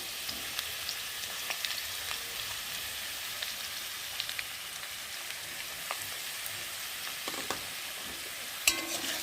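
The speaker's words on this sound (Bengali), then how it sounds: "মশলাটা দিয়ে ভালো করে আলুটা ভেজে নেব" Potatoes fry in a pan with ginger, cumin, onion, turmeric and chilli powder, giving a faint, steady sizzle with light stirring clicks and a louder scrape near the end, without speech.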